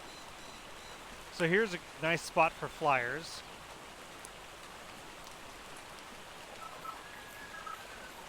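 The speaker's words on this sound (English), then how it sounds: "Crystal Isles has a bug right now where it's always raining." Constant rain in the video game ARK on the Crystal Isles map: a steady, soft hiss of rainfall that runs for the whole stretch, with someone briefly talking over it near the start.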